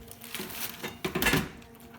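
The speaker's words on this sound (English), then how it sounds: "you can see it slides right off the foil into your bowl" Roasted sheet pan gnocchi and vegetables tipped off foil into a bowl, giving a short soft rattle and slide of pieces with light clinks against the bowl, close and fairly quiet, about two seconds long.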